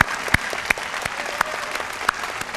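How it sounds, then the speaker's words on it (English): Sustained applause from an audience at a school entrepreneurship day awards ceremony, steady clapping with a few sharper claps popping out near the front, no talk. "one more round of applause for all the contestants, the teachers, the parents,"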